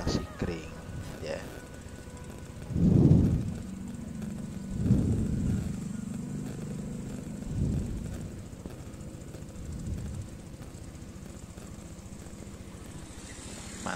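A Yamaha NMAX scooter idles steadily after a blown fuse is replaced, a low, even engine hum running throughout beneath someone talking in intermittent bursts.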